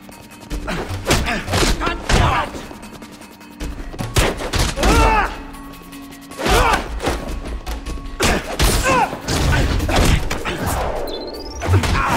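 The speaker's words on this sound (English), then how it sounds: "Silenced pistols, taking out the guards." Silenced pistol shots in The Bourne Conspiracy land as sharp, muffled thumps and quick bursts, scattered irregularly over the scene, with voices speaking in between.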